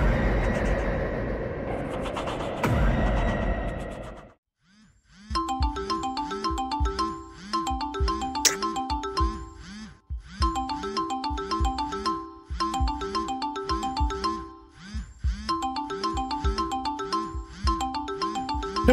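A phone ringtone in the video game Confusion rings in a repeating electronic melody, loud and steady in regular cycles, after a burst of busier game noise at the start.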